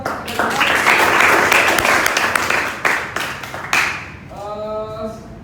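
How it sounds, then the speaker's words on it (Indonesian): A classroom group gives applause after a student presentation, a few seconds of mixed clapping that fades, then a voice begins talking. "Oke, tepuk tangan buat"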